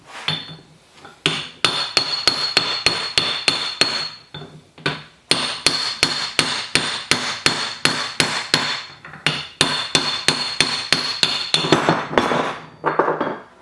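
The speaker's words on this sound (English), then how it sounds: "And we're going to tap on that and turn it around this way." A hammer raps sharp metallic blows on the spindle of a Brown & Sharpe dividing head, coming in quick, rhythmic bursts of ringing taps, close and loud, separated by short pauses.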